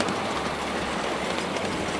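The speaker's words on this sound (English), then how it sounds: "Many times you get to pass by returning trains in this area." A miniature train rumbles past on its track, a dense continuous rattle with rhythmic clicking of wheels close by.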